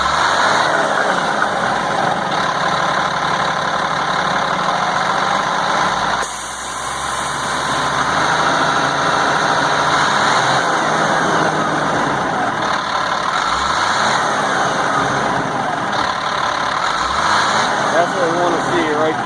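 The Caterpillar 3116E diesel engine of a 1998 GMC C8500 truck runs with its valve cover off. It holds a steady close clatter and hum, with a short dip and recovery midway and a few low rising swells later.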